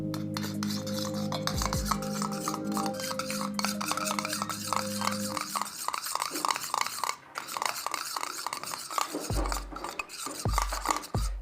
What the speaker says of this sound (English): Mix it well and apply to your full face as a face peak.